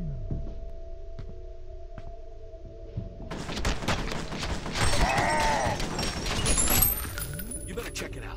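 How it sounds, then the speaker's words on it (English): Gunfire in the video game F.E.A.R., a dense burst of shots and clattering mechanical noise that erupts partway through and continues loud over steady game ambience, after a quieter stretch at the start. "There's gunshots right below you."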